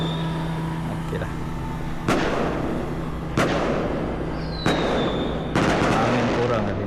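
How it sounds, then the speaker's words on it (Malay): Fireworks bursting near a houseboat on the water during the Hari Raya festive season, four sharp loud bangs spaced a second or so apart over a steady background hum. "Memang bunga api tak habis lagi tadi."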